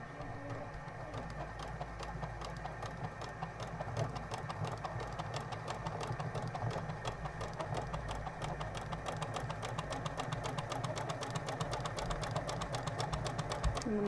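A sewing machine stitches fabric with a fast, even mechanical chatter of needle strokes, a steady motor whir running underneath, heard close and alone at a fairly low level throughout.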